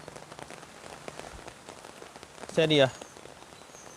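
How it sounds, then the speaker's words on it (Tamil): Rain falls steadily on a surface during a flood, a soft continuous patter, while a person speaks briefly over it. "மழை இப்போ கொஞ்சம் குறைஞ்சபடியா, வெள்ளமும் கொஞ்சம் குறைஞ்சிடுது."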